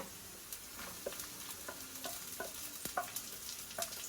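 Cooked drumstick leaves and moong beans are stirred into a pan of fried onion and dried red chilli, giving a soft steady sizzle with light scraping stirs and occasional clinks, fairly quiet and close.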